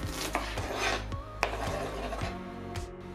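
A knife taps rhythmically on a cutting board, thinly slicing red onion in quick, even strokes, close up with no talking.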